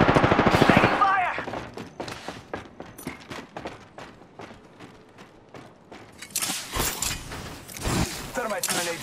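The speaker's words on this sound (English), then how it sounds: "Taking fire!" Gunfire in the Apex Legends video game: loud, rapid bursts of automatic weapon fire close by, opening heavily, easing into scattered shots and then swelling again amid other game sounds.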